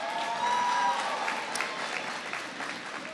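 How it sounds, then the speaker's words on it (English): A school crowd at a presidential education event gives the superintendent a round of applause, dense sustained clapping and cheering from a large gathering, heard somewhat distant and even throughout. "Give your superintendent a big round of applause."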